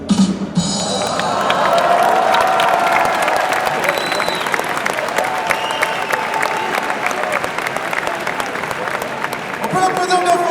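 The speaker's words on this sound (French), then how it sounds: "On peut l'applaudir bien fort, effectivement" A crowd at a cosplay contest during a Lyon e-sports event breaks into loud applause and cheering that runs for the whole stretch, with a presenter's voice carrying over it near the end.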